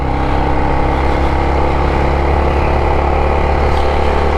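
Honda XR650L motorcycle ridden with the rider standing on the pegs: a steady, loud engine drone with heavy wind rush, continuous and close throughout, no voices.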